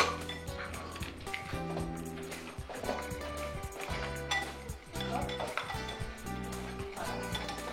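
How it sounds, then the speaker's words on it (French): Cake ingredients are mixed in a salad bowl with repeated clattering and clinking of utensil against bowl in an uneven rhythm, close and moderately loud, with a voice briefly audible in the background. "on verse l'ensemble des ingrédients et on va mélanger"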